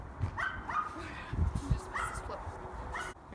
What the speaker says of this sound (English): Got this annoying dog just yapping in the background.